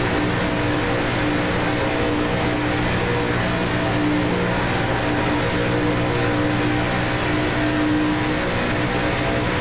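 ARCA Menards Chevrolet stock cars racing in a pack at Daytona in iRacing, a loud, steady roar of several engines at full throttle with droning harmonic tones, continuous and close throughout with no talk.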